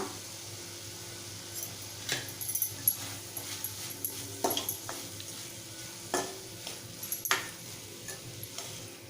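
Spoon scraping and stirring a capsicum and potato curry in a pan, giving scattered clinks and soft scrapes over a faint sizzle, with no talk.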